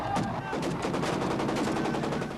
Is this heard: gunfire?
yes